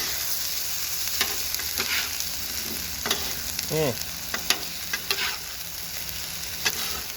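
Meatballs cooking on a flat-top griddle, a loud, continuous close-up sizzle with scattered scraping ticks and a brief squeak of a spatula, no voices.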